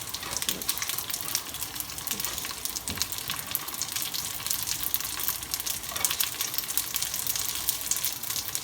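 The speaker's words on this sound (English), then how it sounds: "while these are frying on this side" Egg dumplings frying in a pan, a steady close sizzle and crackle of hot oil running throughout without pause, with a few brief scraping or stirring touches.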